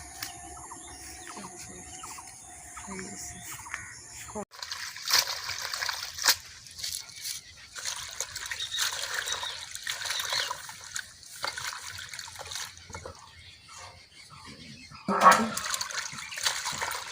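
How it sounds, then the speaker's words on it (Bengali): Leafy greens are swished and rinsed in water by hand, with splashing and trickling that come and go, while a rooster and other birds sound in the village background and someone talks at times. "আমি এখন শাকটা ধোলাই করে নিচ্ছি, ধুয়ে নিচ্ছি।"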